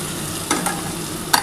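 Potato curry frying in a pan as spiced masala water is poured in, a steady sizzle under a few short stirring scrapes and splashes, close and alone.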